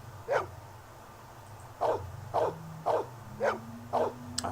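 A dog in the Blade Runner video game barks in a series of six short, evenly spaced woofs over a low steady background hum, fairly faint and with no talking.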